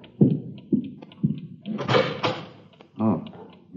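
An apartment door is unlocked and opened with a series of knocks, clunks and a longer creaking rattle, followed by a brief thump, in an otherwise quiet room.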